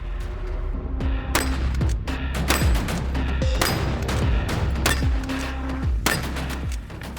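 Repeated loud gunshots from an Aussie Wedgetail MPR308 rifle, fired in several sharp cracks with ringing decay, roughly a second or so apart, outdoors with no talking.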